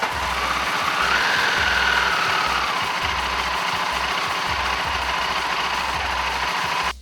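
A Buell 1125R motorcycle engine idles steadily while warming up to operating temperature, a close, continuous low throbbing with an even rhythmic pulse and a broad hiss over it, with no talking.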